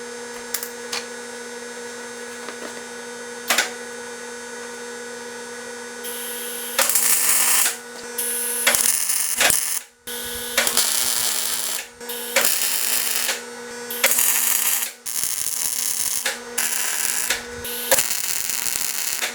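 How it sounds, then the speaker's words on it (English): A JD Squared Model 32 tube bender with a 1-inch die and 3-inch radius bends steel tubing for a mini bike frame. Repeated short mechanical clanks and ratcheting bursts break over a steady low workshop hum. "So the bender that I used was a JD Squared Model 32 bender, and I'm using a 1-inch die and a 3-inch radius on there."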